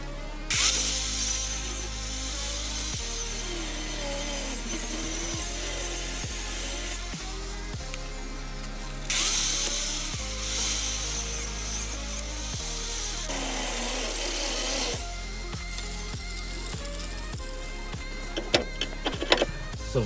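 A drill grinds out rivets on an F150 radius arm bracket, loud whining bursts starting and stopping in repeated runs up close, with a clattering tail near the end.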